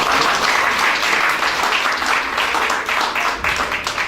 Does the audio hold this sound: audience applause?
yes